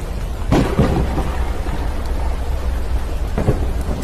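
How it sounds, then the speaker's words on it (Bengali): A thunderstorm sets deep rolling thunder over steady heavy rain in an audio-drama effect. Two sharper thunder cracks stand out, one early and one near the end, above a constant low rumble. "অন্তহীন একটানা ভারী বর্ষণ আর গুমগুম মেঘের শব্দ।"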